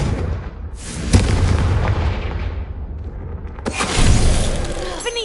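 Confringo fire-blast spell in the video game Hogwarts Legacy, heavy booming explosions rolling over a dense rumbling game soundscape, loud and close, with a second blast near the end.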